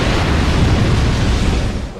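A loud in-game explosion from Dark Souls 2 roars as a dense, sustained rumbling blast lasting about two seconds before easing slightly at the end.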